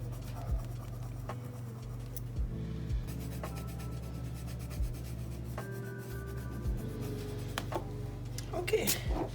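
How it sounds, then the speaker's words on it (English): Soft scratchy strokes of a white colored pencil rubbing on paper, repeated in quiet bursts against a low background hum. "Don't know if this white color pencil is gonna do anything,"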